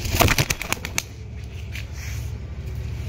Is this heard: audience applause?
no